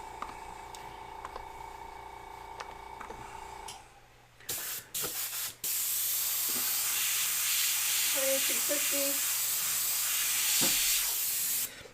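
An airbrush sprays paint onto a skull design, a steady close broadband hiss that runs continuously for most of the span after a few short bursts, with a quieter hum beneath it earlier.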